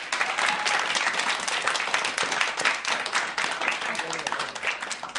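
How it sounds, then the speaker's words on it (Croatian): A big round of applause from an audience at a children's school performance, dense steady clapping filling the whole stretch at close range with no pauses. "Jedan veliki aplauz"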